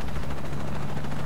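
Helicopter in Shadow of the Tomb Raider, a brief loud steady rotor drone with a low thrumming hum and no talk.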